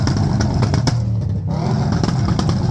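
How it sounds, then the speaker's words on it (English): Loud exhausts rumble and rev nearby at an outdoor Ford car show, a continuous engine drone with brief revving bursts and a short dip in the middle. "Some more loud exhausts in the background."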